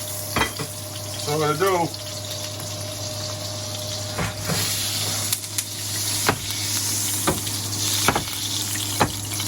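Olive oil and a little butter sizzle in a pan before blackfish goes in, a steady crackling hiss with clinks and scrapes, a low hum underneath, and someone talking briefly near the start.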